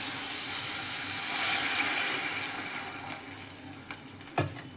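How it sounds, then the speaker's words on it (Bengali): Water is poured into vegetables cooking in a pan with salt and Maggi masala, making a loud, steady rushing gush that thins out toward the end, then a couple of faint clinks. "এবার এর মধ্যে আমি জল দিয়ে দেব।"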